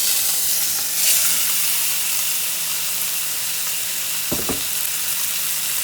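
Pork ribs sizzle steadily as they brown in a pan, a constant close frying hiss with a couple of brief clatters near the end and no talking.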